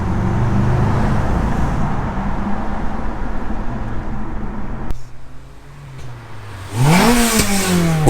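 An Audi S4 with a V8 engine drones loudly at steady speed, briefly eases off, then revs sharply upward through rising pitch as it accelerates hard near the end.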